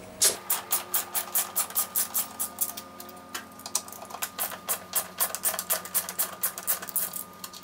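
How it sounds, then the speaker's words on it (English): Rapid, even ratcheting clicks from a hand tool undoing the 10mm motor bolts on a Hoover/Candy washing machine, close and loud, in a steady rhythm of repeated strokes over a low motor-like hum. "Right, now we've disconnected the bolts."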